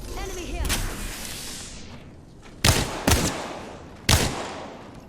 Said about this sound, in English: I'm bricking these wingman shots